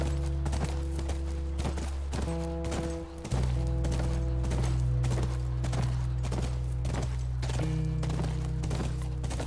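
Steady clip-clop of horse hooves at a brisk trot in the video game The Last of Us Remastered, close and continuous, over a droning background of layered tones.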